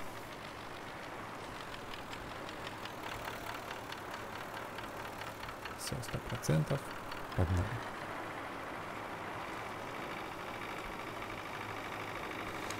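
A DT-175S tractor engine idling in Farming Simulator 19, a steady low rumbling drone throughout, with someone briefly talking over it midway.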